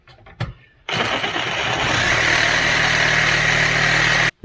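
A Sawzall reciprocating saw with a long, narrow blade cuts through a steel rock slider held in a vise, producing a loud, harsh, continuous buzzing rasp that starts suddenly and runs about three and a half seconds before cutting off.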